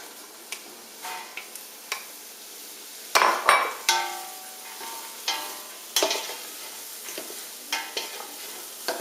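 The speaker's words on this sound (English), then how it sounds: "Let's get these sauteing. Let them get coated in oil." Vegetables and leeks sauteing in olive oil in a pan for cream of vegetable soup, with a steady soft sizzle broken by repeated stirring scrapes and utensil clicks, close and moderately loud, with no talk.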